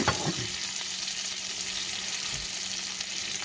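Pork steaks fry in a pan with a loud, steady hiss of sizzling fat close up, and a brief clatter of handling at the start, with no voices.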